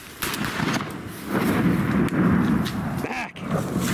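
A shotgun blast fired at ducks during a widgeon hunt on public water along the Snake River in Idaho, a loud outdoor boom with a long rolling tail and a second report near the end.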